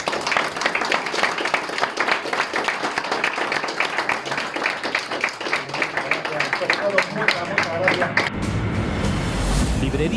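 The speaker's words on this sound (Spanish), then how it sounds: "lo que te has ganado es un fuerte aplauso" A lecture audience at a Madrid bookshop talk on Soviet fighter planes gives a long burst of dense clapping that carries on loudly, then tapers near the end.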